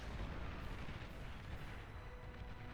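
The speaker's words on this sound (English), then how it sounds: "Here I come in with a bombing run." Rumbling, continuous bombing-run explosions from the Beyond All Reason strategy game, a dense low roar of overlapping blasts held steady and loud throughout with no talk.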